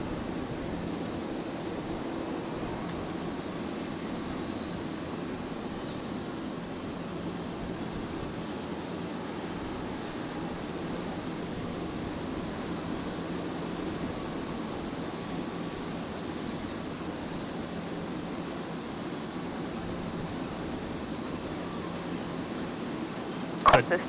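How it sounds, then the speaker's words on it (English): A Jetstar jet airliner begins its takeoff roll on Brisbane runway 01 right, a steady distant engine roar held at an even level beneath a faint background, with a short sharp knock near the end. "Jetstar 800 here. Just beginning its roll."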